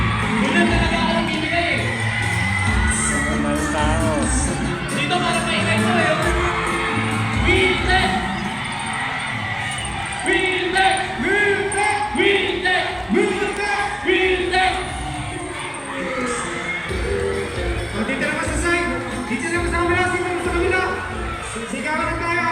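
A noisy crowd of people shouts and cheers in Cabanatuan City, Nueva Ecija, a dense steady roar of overlapping yells and whoops with talk mixed in throughout.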